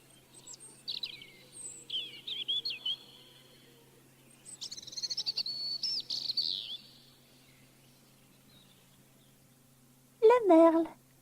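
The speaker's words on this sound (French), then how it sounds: "le rouge-gorge," Songbird calls in a sequence of wild birds: thin high warbling phrases come in bursts over quiet background, followed by a brief louder twittering burst near the end.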